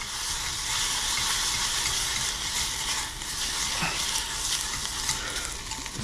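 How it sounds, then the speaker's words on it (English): Ingredients for Cuban chicken noodle soup are stirred in a pot, giving a soft continuous sizzle with light scraping and clinking of the utensil, close and quiet without talking. "Let's give this a little stir."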